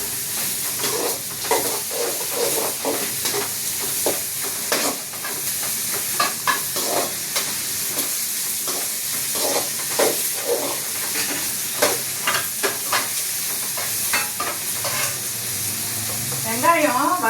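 Shallots and big onions frying in a pan, a dense continuous sizzle with repeated stirring scrapes in an irregular rhythm, close and fairly loud for the whole stretch.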